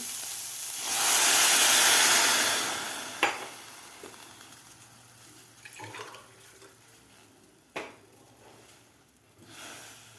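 Water poured from a glass into a pan of sautéed vegetables for a lemon coriander soup: a loud rushing hiss that lasts about two seconds, followed by quieter sizzling and a few sharp clinks.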